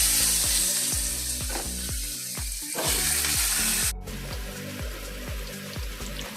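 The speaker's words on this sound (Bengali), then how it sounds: "একটু আলুটা আগে ভেজে নিই" Potatoes frying in hot oil in a pan give off a loud, steady sizzle, broken by repeated rhythmic scraping and stirring knocks throughout, with no talking.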